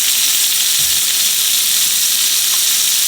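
Butter and oil sizzle loudly and steadily in a heated pan, a dense continuous hiss up close with no talking.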